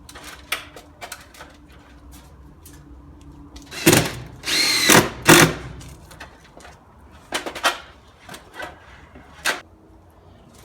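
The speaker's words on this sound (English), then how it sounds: "Here I'm just pre-drilling the holes so that I can put the screws in that hold it on the back door" A power drill pre-drills holes for the screws holding sheeting on the back door of a cargo trailer being converted. It runs in several short, close bursts with a longer, louder whir in the middle.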